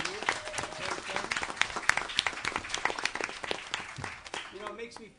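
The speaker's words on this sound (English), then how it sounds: "We should give them a round of applause for what they're doing for our youth." An audience at a Millville city council meeting applauds, a dense run of claps that fades near the end while a voice speaks over it.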